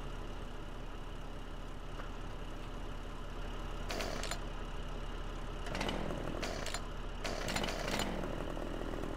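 Chainsaw in the Farming Simulator 15 game, heard as several buzzing, revving bursts over a steady engine drone in a logging scene.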